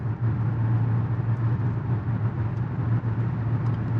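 A 2023 Mazda CX-50 Turbo cruising on the road, heard as a steady, close engine and tyre drone with a low hum that stays even throughout, without talk.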